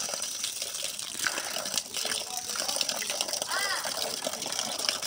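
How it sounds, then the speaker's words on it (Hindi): A solar-powered water pump fills a tank, with a steady gush of water pouring in throughout while voices talk nearby. "ये पानी टैंकी में जा रहा है, ठीक है, प्रेशर भी ठीक है"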